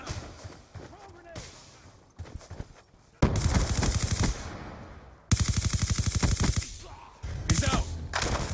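Automatic gunfire in a competitive video game match: two long, loud, rapid machine-gun bursts after a quieter stretch, then a shorter burst, with players' voices talking underneath.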